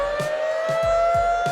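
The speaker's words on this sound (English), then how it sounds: "the siren goes off, but they're so busy singing, they don't even hear it" A loud, steady siren wails at the Apollo Theater's Amateur Night in Harlem, a sustained shrill tone with rhythmic low thumps pulsing beneath it.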